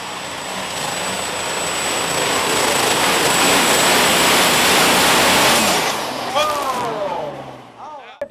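John Deere super stock tractor at a 7500-class tractor pull, a roaring, sustained engine howl that builds and then fades at an outdoor pulling event, with an announcer talking over it.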